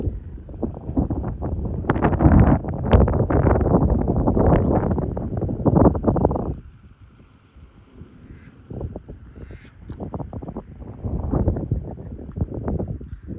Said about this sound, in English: It's been a little bit windy this morning.